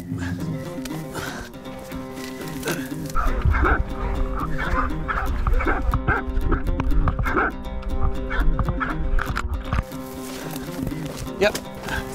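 Hunting dogs barking and yipping hard while a wild sow squeals during a pig hunt on the Wairarapa coast, loud and close, with a heavy continuous rumble beneath and someone talking over it.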